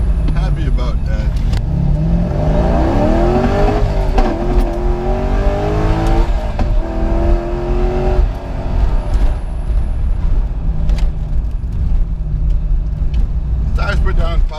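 A BMW E92 M3 accelerates hard on street-driven Federal 595 RS-PRO tires, its engine note rising steadily through the revs and then dropping on a shift, loud and close, with speech heard over the engine.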